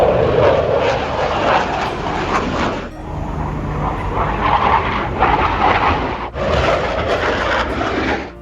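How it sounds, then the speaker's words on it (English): Military aircraft flying overhead during an air show rehearsal at Langkawi airport, a loud sustained engine roar that swells and fades in waves, with brief dips between passes. "while we were sitting at the airport, an air show rehearsal was taking place"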